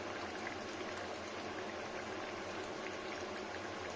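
A pot of prawn, kohlrabi, tomato and potato curry bubbles on a gas stove, giving a steady, soft, close-up boiling hiss and burble with no talk.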